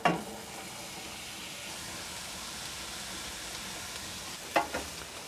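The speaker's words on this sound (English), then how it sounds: "I'm gonna go ahead and add the onions." Onions hitting hot oil and fat in a pan, a sharp burst of sizzling at the start that settles into a steady, close frying hiss, with a brief stir or clatter near the end.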